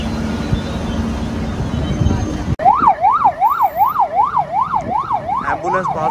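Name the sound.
ambulance siren passing on the road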